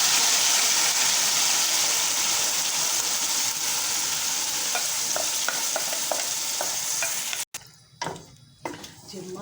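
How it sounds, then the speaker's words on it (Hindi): Sliced onions fry in oil in a pan for a biryani pulao, giving a loud, steady close-up sizzle with light stirring scrapes that cuts off near the end, leaving quieter kitchen clatter. "फ्राई करेंगे। फ्राई होगी प्यारी सी सुनहरी, अब इसमें से थोड़ा सा प्याज निकाल लेंगे।"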